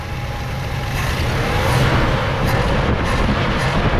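A 1970 Plymouth Fury III with a weak accelerator pump runs loud and close, its engine held in a rough, steady rev with a low rumbling roar.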